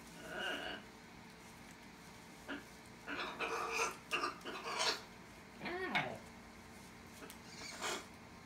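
Blue and gold macaw imitating a dog barking indoors: faint, scattered bark-like squawks and short raspy calls come in several spurts, with soft rustling and handling noises between them.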